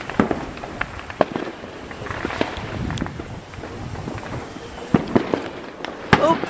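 Fourth of July fireworks by a pond, small screamer shots going off outdoors with scattered sharp cracks and pops over a rushing, windy background, several louder bursts near the end.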